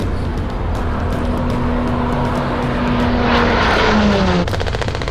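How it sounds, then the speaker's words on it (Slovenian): Military helicopters and Pilatus propeller planes fly overhead during an army field exercise, making a loud, continuous engine drone. One aircraft's pitch rises and then drops as it passes close. "medtem nas iz zraka podpirajo tudi helikopteri in pilatusi"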